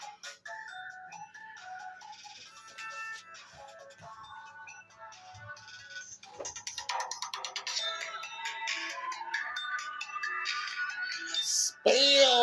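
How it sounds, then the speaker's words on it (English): A phone ringtone rings out mid-recording, a repeating electronic melody with no voices, growing louder and busier in its second half before a brief sharp burst at the end. "why does this phone ring every time I'm making a"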